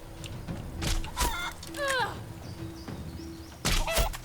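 Chickens in the fantasy role-playing game Divinity Original Sin 2 give several short clucks and squawks, rising chirpy calls over a low steady game hum, fairly close and moderately loud.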